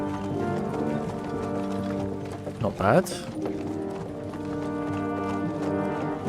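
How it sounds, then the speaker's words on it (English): A horse rides past with a quick clip-clop of hooves, building briefly near the middle over steady background music in the medieval game Kingdom Come: Deliverance II, with a short spoken remark. "the guy who rode past on the horse"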